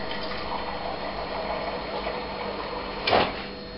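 A refrigerator water dispenser pours a steady stream of water nearby, ending in a brief louder gush near the end.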